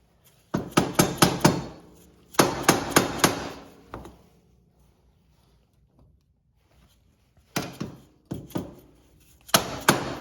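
Repeated hammer blows tapping a tie rod into place on a Suzuki Vinson 500 4x4 ATV during a front wheel bearing job, sharp metallic knocks in quick bursts of four or five, separated by pauses.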